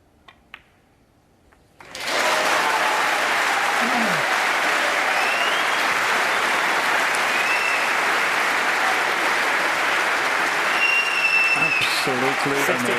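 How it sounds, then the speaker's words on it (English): Snooker crowd at the 2018 Masters semi-final breaks into sustained, loud applause after a red is potted, steady dense clapping continuing for over ten seconds after a quiet moment. "what a fantastic round of applause for just potting that red there"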